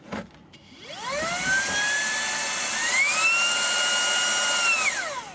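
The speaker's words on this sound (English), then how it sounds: "The hoover works." A Vax ONEPWR Blade 4 cordless vacuum cleaner powered by a repaired 2.0Ah battery starts up, its motor whine rising in pitch, holding steady, stepping up again, then winding down at the end, loud and close with no talk.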